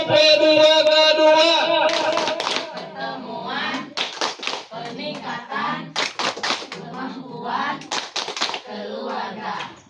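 A group of women chants together, then claps in sharp unison bursts, following a patterned rhythm mixed with their shouted call, at a village community meeting.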